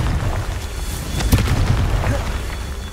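A Confringo fire spell explodes in Hogwarts Legacy gameplay as a deep boom that bursts out mid-way over a continuous low rumble of game sound.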